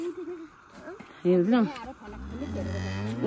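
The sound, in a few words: cow mooing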